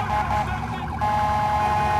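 Ambulance siren in the video game GTA 4 wails loudly and continuously, its pitch shifting midway, with engine rumble beneath and no talk.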